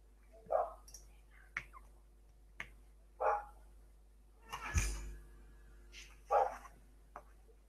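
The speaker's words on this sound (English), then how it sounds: "And if you can hear barking, I have my window open. It's the neighbor's dog." A neighbor's dog barks outside an open window, a few separate faint barks spaced a second or two apart, with clicking and soft indoor sounds between them.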